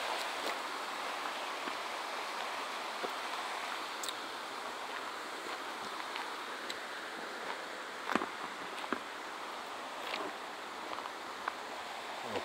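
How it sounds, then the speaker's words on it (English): Water rushes steadily off a small outdoor waterfall, a continuous broadband wash with a few faint clicks and rustles among leaves nearby. "sound of the rushing water coming off the little waterfall there"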